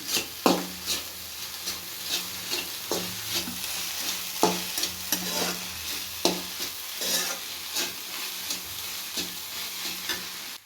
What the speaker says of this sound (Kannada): ಕಾಯಿ ತುರಿ ಹಾಕೊತಾ ಇದ್ದೀನಿ. ಇದನ್ನು ಚೆನ್ನಾಗಿ ಮಿಕ್ಸ್ ಮಾಡ್ಕೊತೀನಿ.